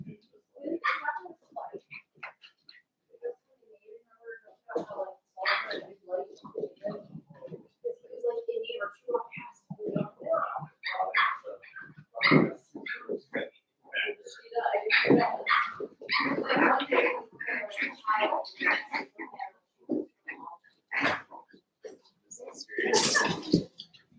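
Cavalier puppies yip, bark and whimper in short scattered bursts during play, close by, with people talking and laughing among the sounds.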